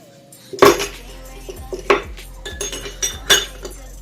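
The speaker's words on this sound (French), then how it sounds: "Voilà, je vais mélanger." Ingredients for Moroccan chebakia, including aniseed, being stirred in a bowl, with a few sharp clinks of utensil on dish between quieter scraping, close and alone.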